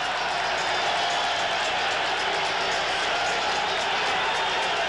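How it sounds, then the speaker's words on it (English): Big crowd roaring and applauding for the fighters entering the ring at a historic Sugar Ray Leonard–Roberto Durán boxing match, a dense, sustained wall of cheering with drums beating, steady and loud throughout. "What an ovation. Listen to this crowd."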